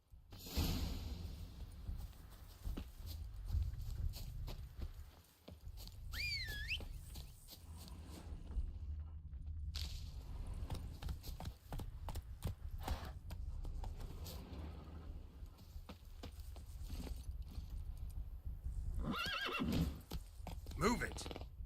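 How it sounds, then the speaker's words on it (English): Horses in the video game The Witcher 3 whinny and snort, with hoofbeats, whooshes and game sounds underneath, running continuously through the scene; no one speaks over them. "I'll ready our horses."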